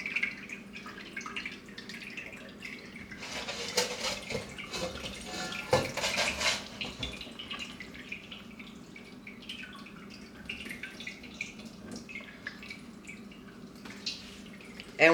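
Whey dripping from a cheesecloth bag of fresh ricotta, made from store-bought milk, hung from a nail over a colander in a kitchen sink. Soft, irregular drips and trickles sound continuously at close range, with a few louder splashy bursts.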